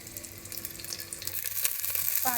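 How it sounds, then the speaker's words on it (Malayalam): Prawns sauté in a pan with a soft, close sizzle and faint stirring scrapes, gradually growing slightly louder over a couple of seconds with no talk. "അപ്പോൾ അതുകൂടി ഇതിൽ ചേർത്ത് കൊടുത്തിട്ട് നല്ലതുപോലെ ഒന്ന് വഴറ്റിയെടുക്കണം."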